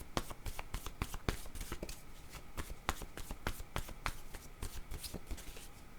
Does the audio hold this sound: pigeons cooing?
no